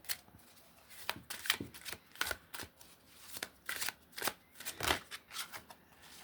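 Oracle cards shuffled and drawn, with a quick series of crisp riffling and slapping bursts close to the microphone, separated by brief pauses.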